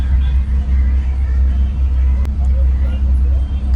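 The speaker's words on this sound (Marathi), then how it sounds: "शेवटी आली गाडी आली" A road vehicle idles or rolls up close by with a loud, steady low engine rumble that drones on without a break.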